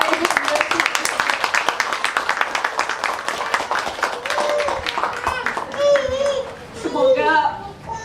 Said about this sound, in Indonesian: Kita berikan tepuk tangan kepada Ibu Bunda.